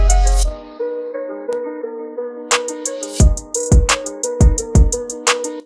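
An electronic drum beat transposed up a couple of steps, with punchy low kicks and crisp snapping hits over sustained synth chords, loud and upfront with no talking.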